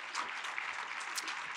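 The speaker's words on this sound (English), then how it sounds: "Can I get a big round of applause?" An audience at an academic and federal science-policy conference panel claps in a short burst of applause, fairly faint and distant, with no talk over it.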